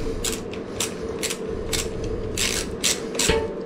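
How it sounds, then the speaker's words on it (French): A ratchet wrench clicks in quick irregular bursts over a steady mechanical hum while mounting a Tektro Gemini SL dual-piston brake caliper, the sharp pawl clicks close and fairly loud with no talk. "on va venir aider avec le cliquet qui s'est mal engagé"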